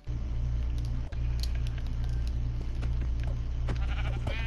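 Minecraft sheep bleat several times in a game over a steady low hum, the short bleats fairly close but modest in level, with no talking.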